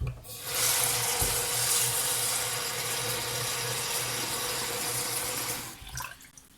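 Water is poured into a pot of morel mushrooms for boiling, a steady, even rush of liquid lasting about five seconds before it tapers off and stops.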